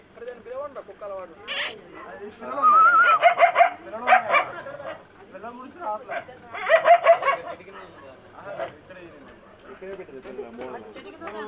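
A dog barks in short bursts and whimpers repeatedly nearby, mixed in among people talking loudly around it.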